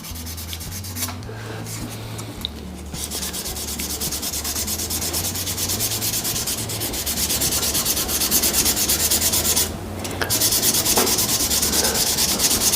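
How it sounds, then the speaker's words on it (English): Sandpaper rubs on an African Zebrano wood pen blank turning on a lathe, a steady, loud, close rasping hiss with a low motor hum underneath, briefly easing twice. "with each grit, what we're doing is we're just checking and making sure that we've sanded out any scratches from the previous grit"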